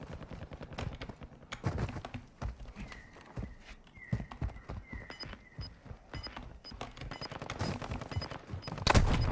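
Rapid bursts of Warzone 2 gunfire crackle amid busy clattering and thumps, with a few tonal beeps and a loud burst near the end.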